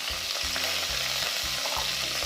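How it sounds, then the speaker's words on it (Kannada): Sliced onion frying in a pan for an Andhra-style radish sambar: a steady, close sizzle of hot oil runs throughout, broken by regular scraping stir strokes every half second or so. "ಆನಿಯನ್ ಫುಲ್ ಸಾಫ್ಟ್ ಆಗೋವರೆಗೂ ಚೆನ್ನಾಗಿ ಫ್ರೈ ಮಾಡ್ಕೋಬೇಕು"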